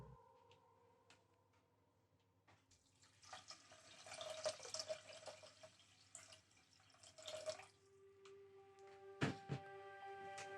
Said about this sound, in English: The next step is to add our water.